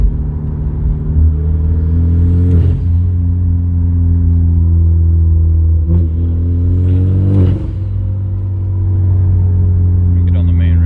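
Hyundai Genesis with a turbocharged engine driving along, a steady loud engine drone with brief throttle lifts around a few seconds in where the turbo flutters and chatters, close and continuous.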